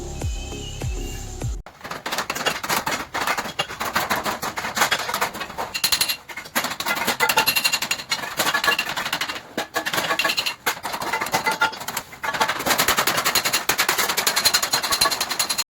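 Rapid, continuous metal hammering as a wire is beaten into the rolled edge of a handmade tin box lid, loud close strikes in dense bursts with brief pauses, no talk.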